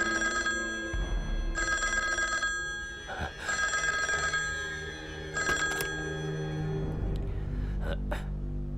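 Telephone ringing in repeated bursts of an old bell-style ring, about three rings with gaps between them, fairly close, with brief background sounds between rings.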